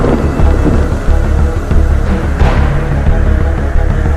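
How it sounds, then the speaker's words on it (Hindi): A strong windstorm with thunder on a mountainside: a loud, continuous roar of wind and rumbling thunder, dense and unbroken throughout, with no voices. "तेज आंधी शुरू हो गई।"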